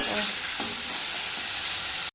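Prawns fry in hot oil in a kadai, a loud, continuous close-up sizzle that stays even throughout with no speech.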